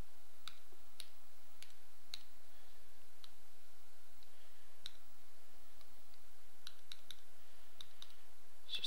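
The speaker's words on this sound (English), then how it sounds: "So I'm going to type that into my calculator." Scattered light plastic key clicks come from a calculator as a sine calculation is typed in, faint taps arriving singly and in small clusters against a quiet background.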